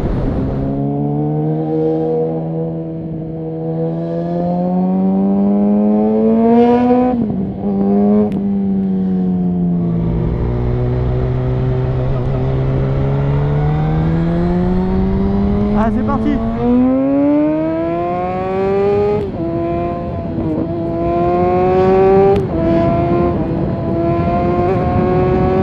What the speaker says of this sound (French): elle fait pas encore autant de bruit que celle de Cédric de sa BMW SMR